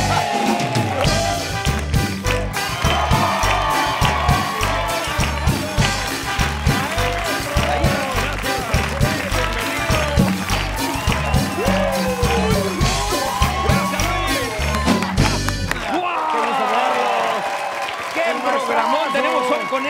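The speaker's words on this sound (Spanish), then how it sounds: "Un fuerte aplauso para este señorón." Studio audience applause and cheering for three Mexican comedians on a late-night talk show, a dense sustained roar of clapping for about sixteen seconds that then drops to a thinner patter.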